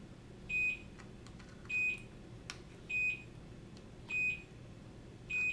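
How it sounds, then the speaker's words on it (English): Property alarm beeping in steady, evenly spaced electronic beeps, five tones about a second apart, clear against a quiet background with no speech. "something is moving on my property and making my alarm go off"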